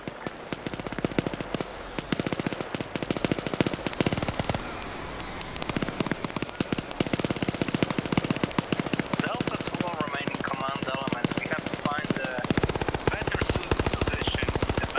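Gunfire in the Starship Troopers video game comes as dense, rapid bursts of automatic fire with popping shots, continuous and loud throughout.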